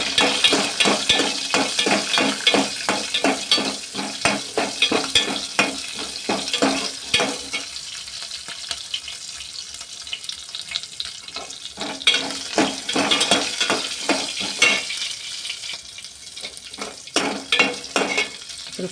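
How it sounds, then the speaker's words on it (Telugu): Green chillies frying in a pan with fenugreek seeds and ginger, a close crackling sizzle punctuated by fast, repeated spatula taps and scrapes against the pan, continuing steadily with no talking. "పచ్చిమిర్చి కూడా కాస్త వేగాలి కదా"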